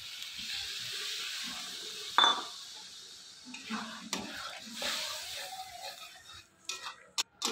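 Spices, salt, turmeric and tomato stirred in a pan, with a few clinks of a utensil against the metal and a faint sizzle underneath, fairly quiet throughout.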